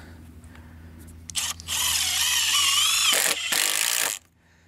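A power drill whirs up loud and close, driving screws into wooden form stakes for a shed foundation, with two sustained bursts separated by a brief stop before it winds down.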